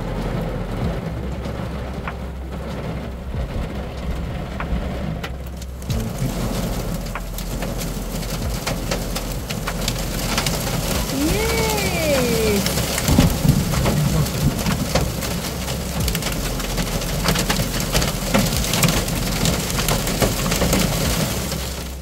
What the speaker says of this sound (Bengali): বৃষ্টির পরিমাণ ক্রমশ বাড়ছে, তো শিলাবৃষ্টি স্টার্ট হয়ে গেছে অলরেডি।